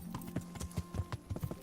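Horse hooves clip-clopping in the medieval game Kingdom Come: Deliverance, a steady run of about a dozen hoof strikes at close range with faint background ambience and no talk.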